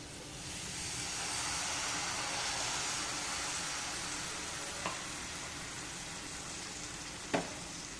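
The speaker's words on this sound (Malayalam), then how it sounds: "ഈ ഒരു കപ്പ് ക്വാണ്ടിറ്റിയിലേക്ക് വെള്ളം ചേർത്ത് കൊടുക്കുന്നുണ്ട്" Water poured into gooseberry pickle in a hot pan gives a loud, steady hiss and sizzle, broken by two sharp clicks from a utensil.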